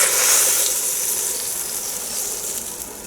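Cheese and onion omelette mixture sizzles in a Salter XL Duo omelette maker, a loud, steady close hiss that eases slightly over a few seconds without any speech.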